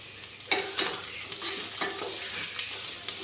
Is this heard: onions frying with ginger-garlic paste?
yes